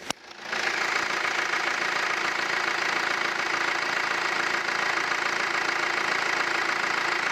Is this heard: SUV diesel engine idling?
yes